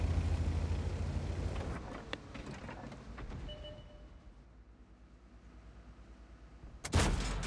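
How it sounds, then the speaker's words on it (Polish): A tank gun fires in a World War II tank battle game with an AMX and a Churchill, one sharp loud blast near the end after a stretch of low rumbling engine and battlefield noise. "Strzał AMX-a zdecydowanie niecelne."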